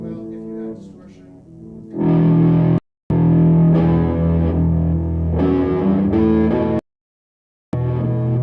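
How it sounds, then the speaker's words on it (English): Electric guitar through an octave-down pedal with distortion added, thick sustained low-heavy chords played loud in bursts, cut by two short silent gaps. "Goes really well if you add distortion."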